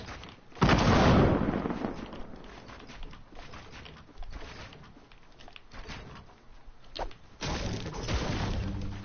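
Grenades detonate in a first-person shooter game, two loud, heavy blasts several seconds apart with a rumbling tail, separated by quieter in-game ambience.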